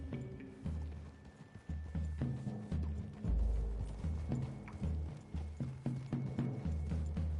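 Horses clip-clop with steady hoofbeats in the Red Dead Redemption 2 video game, moving close under a low musical score and continuing throughout.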